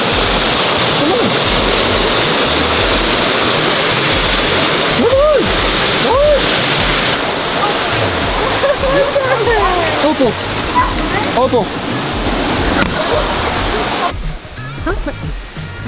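Stewart Cascades waterfall in Utah pours in a loud, steady roaring rush with splashing, close and constant, while a person calls out several times over it before the sound cuts off near the end.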